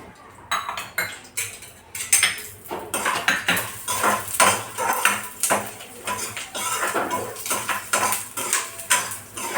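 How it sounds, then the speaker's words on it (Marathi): Peanuts, coconut and garlic roast in a little oil in a kadhai, a busy run of quick metal spatula scrapes and clanks against the pan in an uneven rhythm, close and fairly loud, with no voices. "तर शेंगदाणे खोबरं लसूण पण छान कलर येईपर्यंत भाजायचं"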